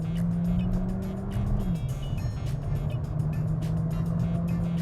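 Engine of a Skoda Kushaq 1.5 Monte Carlo with a quick DSG gearbox while driving, a steady humming drone inside the car whose pitch drops briefly as it shifts, then holds on, with no talking.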